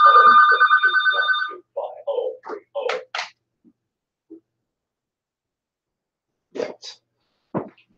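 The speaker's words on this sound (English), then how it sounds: "Phone's ringing." A telephone rings in a short burst of loud electronic trills at the start, followed by scattered thumps, shuffling and breaths as it is picked up, then quiet with a couple of later knocks.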